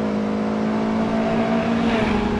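A Ferrari California's engine sounds while driving: a steady, loud, sustained drone with a strong low tone that builds slightly toward the end, with no voices.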